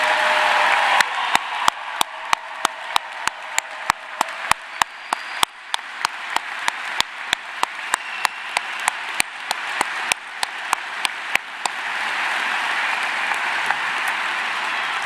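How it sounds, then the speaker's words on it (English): Sustained applause from a large crowd at a high school graduation ceremony in a university arena, honoring veterans, a dense, loud roar of clapping that carries on for several seconds and then fades toward the end. "as we applaud you for your service and recognize you as exemplary mentors and heroes"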